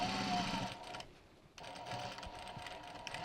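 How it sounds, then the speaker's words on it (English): A sewing machine stitches a rolltop rucksack, running steadily, pausing briefly for about half a second, then resuming its close, rapid whirring stitch in a backstitch. "Sewing, and I'm just going to sew and backstitch up to that point where I've got that second pin to mark the end of the long stitching."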